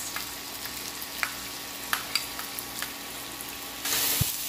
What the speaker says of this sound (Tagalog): haluin lang ng haluin